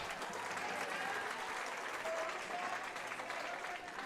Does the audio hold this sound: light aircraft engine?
no